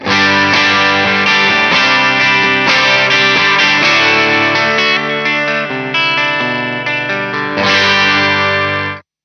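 Electric guitar plays chords and riffs loudly through a TC Electronic Combo Deluxe 65 valve amp pedal with an overdriven, chorus-tinged tone, ringing out before cutting off abruptly at the end.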